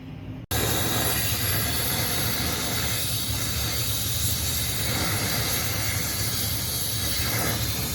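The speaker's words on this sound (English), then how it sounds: "we're just using the torch here. We're going to melt all this old babbitt out of this rod cap" A torch roars steadily while melting old babbitt out of an engine rod cap, a loud, constant, close hiss that kicks in abruptly after a brief quiet start.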